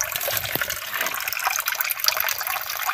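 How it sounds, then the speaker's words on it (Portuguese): Water pumped through a pipe gushes and splashes into a water tank, a loud, continuous close-up pour with no talking. "E a água tá chegando boa."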